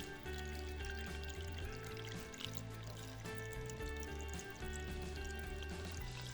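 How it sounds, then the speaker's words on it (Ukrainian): Salt brine pours from a container into a 3-litre glass jar for fermenting zucchini, a faint continuous gurgling trickle under steady low background music. "І далі заливаю один бутель цим розсолом."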